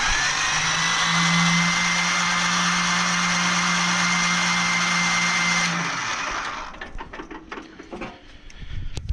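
A Belarus 250AS tractor engine being cranked over by the starter, a loud steady whirring drone for about six seconds that cuts off into quieter clicks and rattles.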